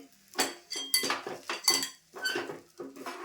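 Cooked semolina for a sweet dish is scooped out of a pan onto a plate. A utensil scrapes and clinks against the metal in about seven rhythmic strokes, close up and with no talking.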